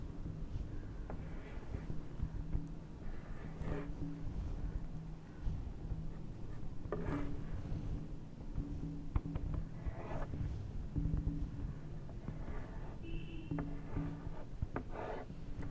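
A marker squeaks and scratches across a board while a transformer diagram is drawn, faint intermittent strokes over a steady room hum.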